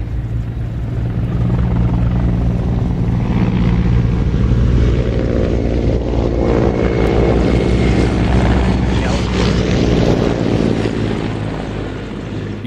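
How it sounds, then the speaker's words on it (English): Military aircraft fly past at a loud air show, a heavy continuous roar that swells and shifts in pitch as they pass overhead, then begins to fade. "Couple of very frightening looking aircraft."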